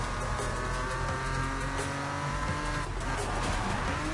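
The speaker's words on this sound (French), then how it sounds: "j'ai freiné trop tôt" Race car in the Need for Speed video game under hard braking, loud continuous engine roar with tire squeal and skidding throughout, no voices.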